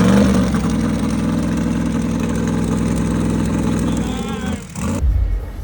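A 1,500hp BMW race car engine runs loud and close in a steady, rumbling idle with a rough dip and a brief rev near the end.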